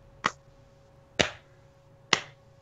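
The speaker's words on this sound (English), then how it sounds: "I don't deserve the golf clap for that" A sparse golf clap, three slow, separate sharp claps spaced about a second apart, each crisp and isolated against near silence with a faint steady hum.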